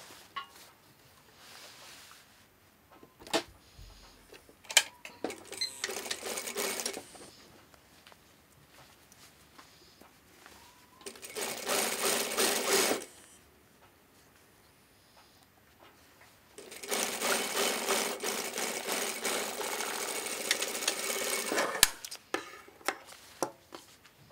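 A sewing machine stitches a quarter inch seam in three separate bursts of steady rapid whirring, each lasting a few seconds, with quiet handling sounds and small clicks in the pauses between.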